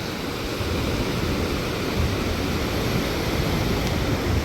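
Ocean surf rolls steadily onto a lifeguard-patrolled beach in Da Nang, Vietnam, a continuous broadband wash of breaking waves with no distinct individual crashes and no voices.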